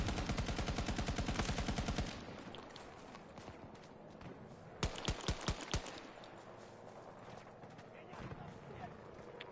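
Battlefield 2042 video game gunfire opens with a rapid automatic burst of evenly spaced shots, followed by a short cluster of further shots against a busy game soundscape and occasional voices.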